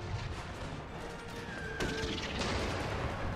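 Battlefield gunfire from cavalry and howitzers in a war video game, a dense, continuous rumble of distant shots and booms with one sharper crack partway through, loud and unbroken throughout.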